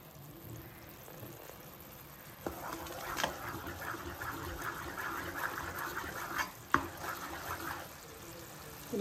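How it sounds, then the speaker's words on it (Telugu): Puffed rice is tipped into hot, stringy jaggery syrup and stirred, giving a soft crackling rustle and scraping that starts after a quiet opening and continues at moderate distance. "ఇప్పుడు మురీలు వేయగానే వెంటనే అంతా కలిసేలా కలుపుకోవాలి."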